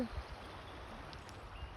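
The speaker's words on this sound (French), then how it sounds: "Et Milo, tu entends le bruit du ruisseau, du Oued?" A stream, the oued, flowing in an Atlas mountain valley near Imilchil, a soft continuous low gurgle and rush heard from a moderate distance, faint and steady throughout.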